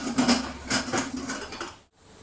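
A pressure cooker lid falls while chicken is cooking, giving several sharp metallic clanks and rattles in quick succession before it settles into silence.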